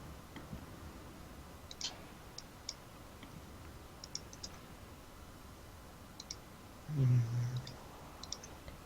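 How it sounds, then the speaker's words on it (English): Faint computer mouse clicks picked up by a microphone tick sparsely in small clusters over a quiet room hiss, with a brief low thump near the end. "Picking up some mouse clicks, by the way."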